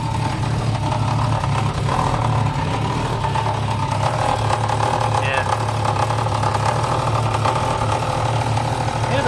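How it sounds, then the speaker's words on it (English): A 1989 Jeep Cherokee XJ idles with a steady rumble, its exhaust rattling and knocking against the AW-4 automatic transmission underneath, close and continuous, with voices talking over it. "exhaust is rattling against the uh, transmission, possibly"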